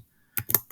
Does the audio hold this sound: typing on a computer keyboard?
yes